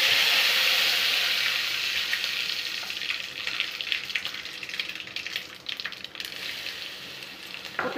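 Dried chilli, mustard seeds and curry leaves hit hot oil for a South Indian tadka, a loud crackling sizzle that starts strong and gradually settles into lighter, sputtering pops, heard close and alone.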